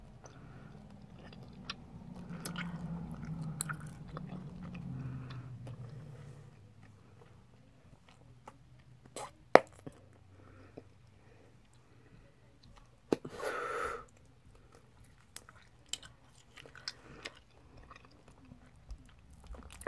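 Double Bubble Seedlings bubblegum chewed close up, with soft wet chewing and squishing for the first several seconds, then quieter, scattered smacks, a few sharp pops and a brief burst of chewing later on.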